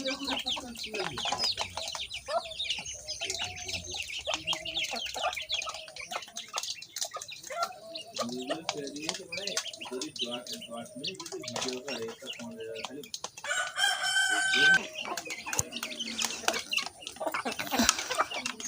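Chickens cluck continuously at close range amid rustling and scattered noise, with one brief crow-like call toward the end.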